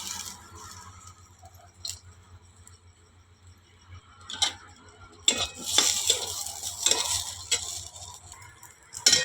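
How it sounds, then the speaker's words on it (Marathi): Coconut is dry-roasted in a pan on a wood-fired stove. A spoon scrapes and stirs against the metal in scattered strokes, and a soft sizzle grows busier toward the end. "आता मी ह्याच्यात खोबरं भाजते।"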